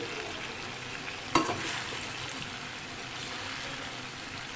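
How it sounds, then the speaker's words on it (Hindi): Potatoes drop into a pan of oil with plenty of curry leaves for an aloo baingan curry, giving one sharp splashing hit followed by a steady, loud, even sizzle with no talking. "आलू डाल देंगे इसमें"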